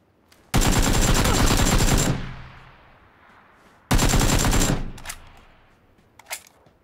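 Automatic weapon fire in PlayerUnknown's Battlegrounds on the Miramar desert map: two loud sustained bursts, each lasting over a second and trailing off into echo, followed by a few faint isolated shots.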